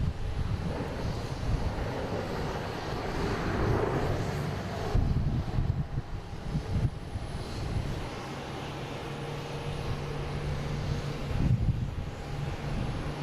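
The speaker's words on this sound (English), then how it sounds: "Flight 155, a 767." Boeing 767 airliner on Flight 155 at Boston Logan airport, a steady broadband engine roar heard from a distance outdoors, with wind buffeting the microphone throughout and no talk.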